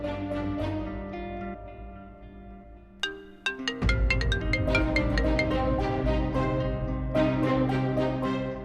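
A synthesized ringtone melody plays steadily with layered tones, a brief break, then a fuller repeating chime pattern, loud and close.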